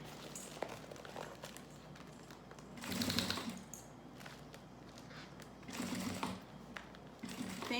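A sewing machine stitches a thermal school lunch bag in steady whirring runs, swelling louder in two bursts as the needle speeds up, close and alone without talk.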